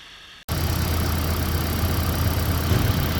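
A Toyota Prius engine fires up after a head gasket replacement, jumping from near silence to a loud, steady idle with a low rumble and faint knocking texture that holds evenly to the end.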